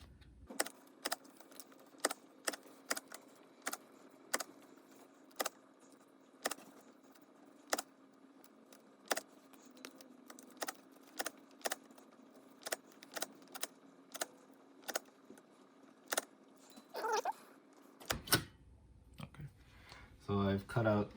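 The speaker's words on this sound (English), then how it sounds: "cut out holes in the leaf, and we'll do that using a hole puncher" A hole puncher snaps through a leaf again and again, cutting out small discs in a steady run of sharp, close clicks, followed at the end by brief rustling.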